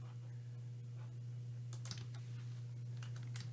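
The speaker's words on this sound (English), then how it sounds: "here let's just type ABC to get to it" Typing on a computer keyboard, a brief, irregular flurry of quiet key clicks, faint and close, over a steady electrical hum with no voices.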